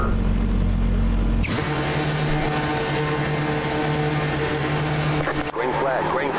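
A Hyundai Elantra TCR race car launching at the start of a race at Donington in the iRacing simulator, an engine drone that jumps into a loud, rising roar with gear changes, sustained close and steady.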